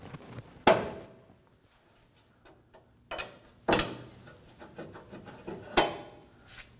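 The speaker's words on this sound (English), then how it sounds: "use a small pry bar, and we're going to pry on the top on both sides" A small pry bar working at parts near the oil pan of a 2017-2024 Nissan Armada, producing three sharp metallic pops and scraping rubs spaced a couple of seconds apart, with quieter shuffling between.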